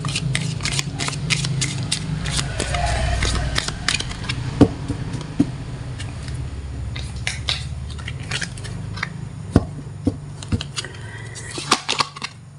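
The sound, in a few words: tarot cards being shuffled and drawn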